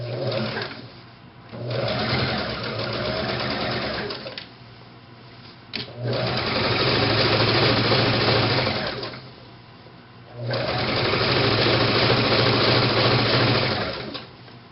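Sewing machine stitching fabric for ruffle pants, running in three loud sustained bursts of several seconds each with whirring needle rhythm, separated by quiet pauses and a brief handling knock.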